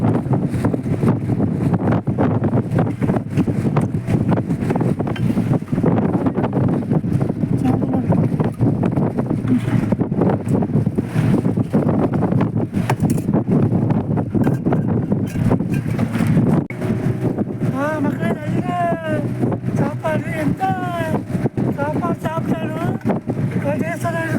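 Strong wind buffeting a boat at sea during a squid-fishing trip, a loud constant roar across the whole stretch with someone talking over it and faint chirpy tones late on.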